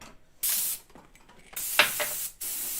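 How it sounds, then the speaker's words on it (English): An airbrush blows air with no paint to dry a paint layer on a waterfall diorama model, making close, loud hissing spray bursts: a short one, then a longer one, and a sustained jet at the end. "Use the airbrush without the paint to dry the paint."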